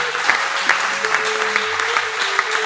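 A church congregation claps its hands in praise of God, a dense continuous applause with steady sharp claps filling the room, while a sustained musical tone runs underneath.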